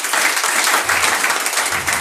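A church congregation applauds during a worship service, steady dense clapping filling the room at a loud level, with no talk over it.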